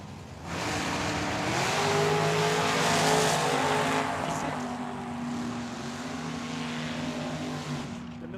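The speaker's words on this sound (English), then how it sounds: "I know that's Bradley Akers on the left-hand side with his Chevelle" A drag-racing Chevelle and a military hot rod launch down the strip at Tucson Dragway, roaring loudly and close, then holding a sustained engine drone that fades slightly toward the end.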